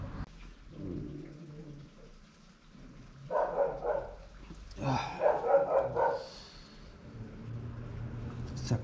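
A dog barks in two short clustered bursts at moderate distance on a freezing morning outdoors during a cycle trip in Darjeeling, with quieter low rumble between the barks.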